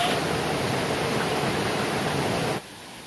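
A waterfall roars as a steady broadband rush of water, loud and close, before dropping off abruptly near the end to a fainter background hiss.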